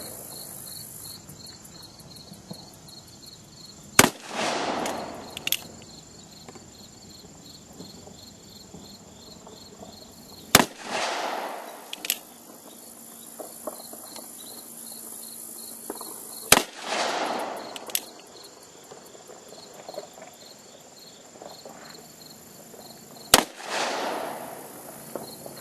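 A .45 Colt revolver fires Lee 255 grain flat-nose handloads outdoors, with four sharp, well-separated shots spaced several seconds apart over a steady chorus of crickets.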